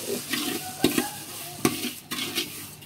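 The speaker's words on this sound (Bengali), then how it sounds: "এখন আমরা ভাজা সেমাইয়ের মধ্যে চিনি দিয়েছি, এই চিনি দিয়ে বেশ অনেকক্ষণ নাড়তে হবে।" Fried vermicelli and sugar stirred in a pan, with repeated scraping strokes and knocks of the spoon over a light sizzle, close and fairly loud.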